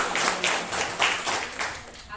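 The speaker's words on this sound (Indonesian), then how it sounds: "Tepuk tangan dulu untuk CGP." A small group of teachers claps in rhythmic bursts, about eight evenly spaced strokes, close and fairly loud, with a voice faintly underneath.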